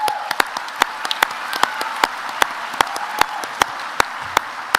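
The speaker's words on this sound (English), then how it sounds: "then we'll clap and do all that" Audience applause at a college sport awards ceremony honouring a golf croquet player, a steady crowd clapping with sharp individual claps standing out at regular intervals, no talking.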